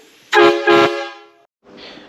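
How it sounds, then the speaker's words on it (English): Two loud, close blasts from air horns fitted to a classic ERF truck, run at about 60 psi and sounding like train horns, the second merging into a held tone, then a brief hiss of air after a gap. "Now they are loud. And they sound like young train horns."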